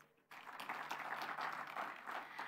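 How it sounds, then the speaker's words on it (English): A festival audience in Kisumu, Kenya applauds at an official opening, steady clapping rising suddenly and sustained at moderate level, somewhat distant, with faint voices mixed in. "a round of applause."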